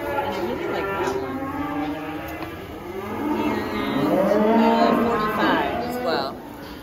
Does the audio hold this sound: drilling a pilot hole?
no